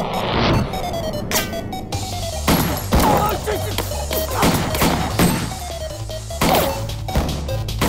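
Gunshots ring out in a Hindi comedy film scene, several loud sharp cracks and crashes spaced through the stretch over a steady music bed, with brief dialogue between them.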